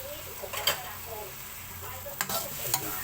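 Mussels stir-fry in oil with oyster sauce, a soft steady sizzle with a few light scraping clinks of a spatula against the pan, faint and close.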